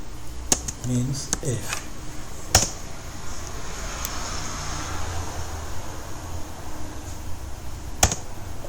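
Keystrokes on a computer keyboard as a reboot command is entered on a Kali Linux system, a handful of sharp separate taps with pauses between, moderately close, with brief speech early on and faint room noise.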